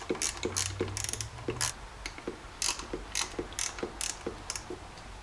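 A ratchet clicks rapidly in short bursts with pauses between them while screws are backed out of the throttle position sensor on a Jeep 4.0L engine, close up and with no talking.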